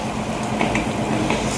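Egg-coated spicy fish frying in a pan, half cooked and just turned over; a loud, close, continuous sizzle with crackling spatters throughout and no talking.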